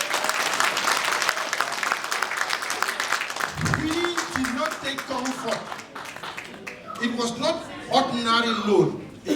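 Applause breaks out among mourners at a burial, dense clapping at first that thins as a speaker's voice and some chuckling come through over the claps.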